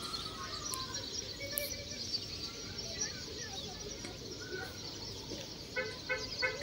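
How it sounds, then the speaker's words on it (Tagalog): Soft, scattered bird chirps and tweets with faint insect buzz drift through a quiet outdoor spot at sunset, distant and low under a steady background hiss. "Makinig ka lang sa mga huni ng ibon."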